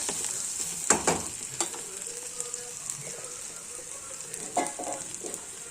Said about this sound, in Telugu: ఫ్రై అవుతూ ఉంటాయి అన్నమాట